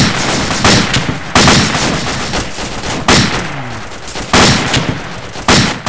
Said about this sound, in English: there's no way to hear you over this gunfire